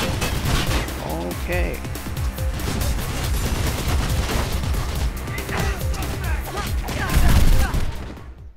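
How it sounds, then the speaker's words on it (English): Enemy gunfire in Mirror's Edge, dense and continuous with a louder burst near the end, heard under a man's speech. "They shot me in the back while I was melee fighting"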